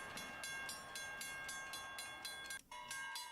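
A locomotive rolls past in a train video game, with rhythmic clickety-clack wheel beats repeating every half second over a steady rumbling hum. A short tone sounds near the end, heard at moderate distance with no talk.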